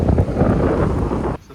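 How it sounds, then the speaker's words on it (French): Strong wind buffets the microphone outdoors at a film shoot, a loud continuous roaring rumble that drops off sharply near the end. "Ça souffle un peu là."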